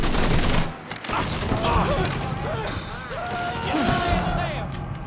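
Bursts of gunfire in Mafia 3 during a side-mission firefight, dense fusillades with crashes and impacts, while voices shout over the shooting.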